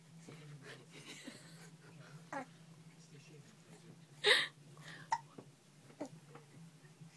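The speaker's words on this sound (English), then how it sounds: "You got the hiccups?" A young boy hiccups once, sharply and up close, amid quiet breathing and small vocal noises, with a couple of softer catches afterward.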